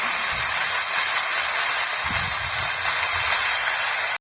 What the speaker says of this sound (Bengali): আলুগুলো দিয়ে দিচ্ছি, মাছগুলো দিয়ে দিচ্ছি